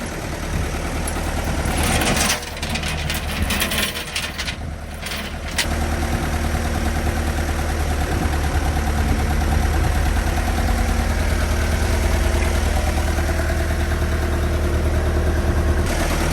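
A heavy tractor engine idles steadily with a low, rumbling drone; a brief rougher stretch early on, then an even, continuous chug to the end.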